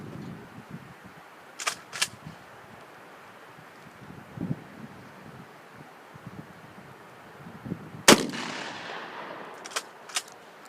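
A Kel-Tec KSG shotgun fires at a target 10 yards off, giving a sharp loud blast near the eight-second mark with echoing decay, among a few smaller clicks and knocks from handling and faint wind, with no talking.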